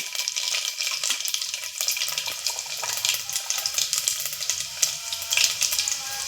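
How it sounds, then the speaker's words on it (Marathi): Mustard seeds, cumin and garlic crackle and sizzle in hot sweet oil in a pressure cooker while a traditional masoor amti is prepared, a dense, steady hiss with scattered pops, close and unbroken by talk. "आता तेल तापलं आहे गोड तेल टाकलंय मोहरी टाकते त्याच्यानंतर जिरे टाकते"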